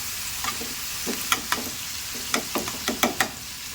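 Two onions frying in a tawa for an egg masala, a soft steady sizzle with scattered clicks of a spoon stirring through, close and fairly quiet.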